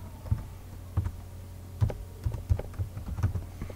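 Keys clack in a short irregular burst as a terminal command is typed on a computer keyboard, close and clear over a low steady hum, with no one talking.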